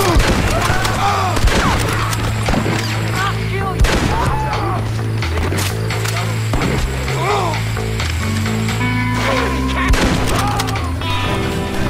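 Loud gunfire from the video game Red Dead Redemption fires off in repeated cracks and booms over a pulsing musical score, with scattered bursts throughout.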